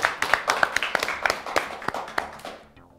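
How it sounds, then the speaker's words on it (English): A small studio audience claps for young contestants on a children's spelling quiz show. Distinct, fairly close hand claps come in an uneven rhythm, then thin out and fade. "Let's give them a round of applause."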